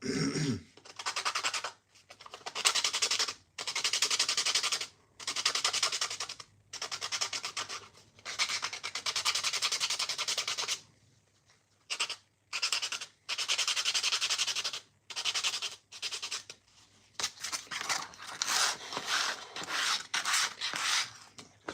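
Hand-sanding wood in a skateboard workshop: repeated rasping back-and-forth strokes in bursts of a second or two, separated by brief pauses, close and fairly quiet with no talk.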